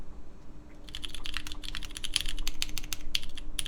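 Typing on a KBDfans Tofu TKL mechanical keyboard with a top-mount build and PC plate: a brisk, irregular run of sharp key clacks, close and clear over a faint hum, starting after a quiet moment.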